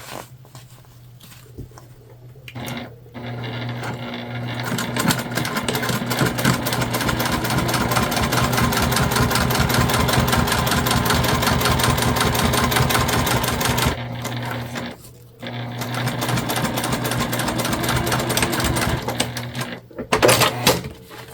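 A sewing machine top stitching a folded seam on a fabric candy bag, fast steady needle chatter running loud and continuous, pausing briefly before restarting in shorter bursts.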